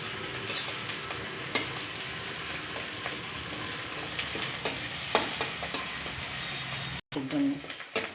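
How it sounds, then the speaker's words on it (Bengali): Onions frying in oil in a pan, stirred now and then, crisping for a home-cooked dish; a steady close sizzle with intermittent scraping stirs and a brief clatter near the end. "পেঁয়াজটা নাড়ছি দেখছি।"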